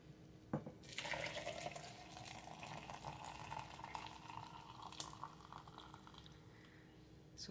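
Boiled milk pours steadily from a vessel, a continuous close liquid stream with a soft start and a brief sharper splash partway through.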